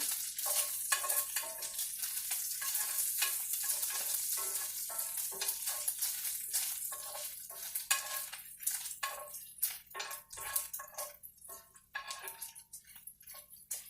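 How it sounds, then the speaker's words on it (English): Bacon fries and renders down in a pan for an Asiago chicken sausage dish, a crackling, popping sizzle that stays steady at first and then turns into sparser, irregular spits and pops, with no talking. "I will be back once I get this bacon all rendered down"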